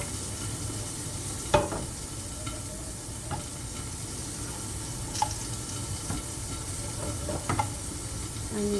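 An egg fries in olive oil while being stirred in a pan, a steady hissing sizzle broken by a few sharp scraping clicks of the utensil, with no voices.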